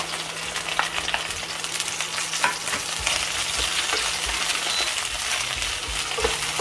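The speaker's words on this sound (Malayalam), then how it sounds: "ആദ്യം വെണ്ടയ്ക്ക ഒന്ന് വറുത്തെടുക്കണം." Okra fries in hot coconut oil over a medium flame with a continuous crackling sizzle, broken by occasional light clicks of stirring. No one speaks.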